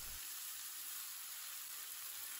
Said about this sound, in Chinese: 油热以后，把番薯叶倒入锅中